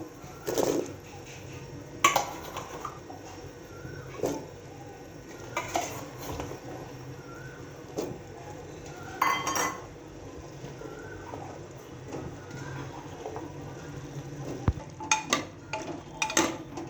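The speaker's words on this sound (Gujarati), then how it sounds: "હવે આપણે તેમાં બટેકા એડ કરી દઈએ" Utensils scrape and clink against a pot as potatoes are added to a spicy gravy and stirred, with scattered knocks and a low simmering bubble underneath.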